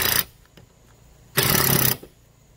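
Cordless drill driving screws on a dying battery, two short bursts of whirring motor, the second about half a second long and louder, separated by quiet, close by.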